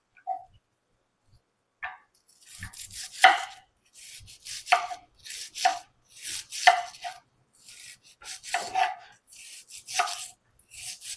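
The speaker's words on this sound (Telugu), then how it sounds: "ఫస్ట్ అయితే ఆనియన్ కట్ చేసుకున్నాము" An onion being chopped with a knife on a board, a run of crisp, irregular chops in quick bursts, close and clear with no talking.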